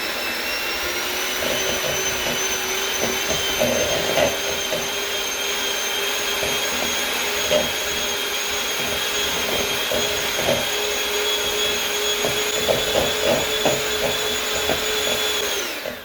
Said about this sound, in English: So I'm just gonna start blending it, and we are gonna see how this turns out.